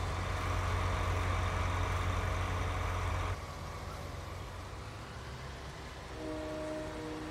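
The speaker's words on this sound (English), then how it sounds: "On this map, the train toots every time it goes across a crossing." A train in the Brazil map of the video game Farming Simulator 19 rumbles past a crossing, its loud sustained horn blaring for about three seconds before cutting off, then a softer tone sounding later over the engine.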